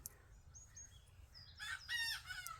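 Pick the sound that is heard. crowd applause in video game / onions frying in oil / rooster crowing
rooster crowing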